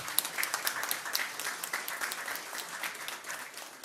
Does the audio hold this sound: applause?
yes